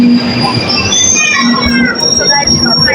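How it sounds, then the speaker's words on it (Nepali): A train rolls into a station with loud, continuous rumble and high, sustained wheel squeals that slide in pitch, heard close up. A voice talks briefly underneath. "This train is arrived right now."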